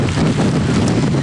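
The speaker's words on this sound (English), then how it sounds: "I told you that it was windy, it was gusty, and now you can add wet weather to that." Gusty wind buffets the microphone at a marina during Hurricane Sandy, a loud, steady roar of rushing air with no voices.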